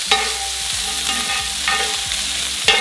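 Butter browning in a pan sizzles steadily up close, broken by a few sharp clinks and scrapes of stirring, with no voices.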